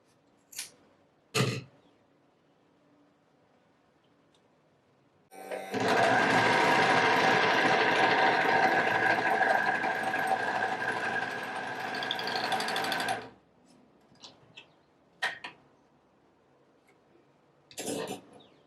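An Empisal sewing machine stitching fabric for a polo neck upcycle runs in one loud steady burst of about eight seconds, framed by a few sharp clicks and handling knocks in a quiet room.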